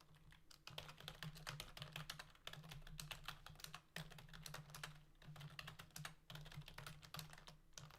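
Rapid, continuous keystrokes on a generic computer keyboard, close and steady, with a few brief pauses between bursts of typing.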